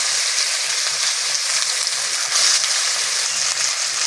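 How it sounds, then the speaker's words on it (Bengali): Chopped onions fry in hot oil with salt, whole cumin and spices in a pan, a loud, dense, continuous sizzle with faint crackles and no talking. "পেঁয়াজ ভালো করে ভেজে নেব"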